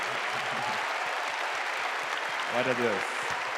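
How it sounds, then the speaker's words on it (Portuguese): A church conference congregation claps steadily throughout, a broad wash of applause with a voice speaking briefly over it near the end. "Mais uma vez, aplauda ao Senhor. Aplauda a pessoa que está do seu lado aí."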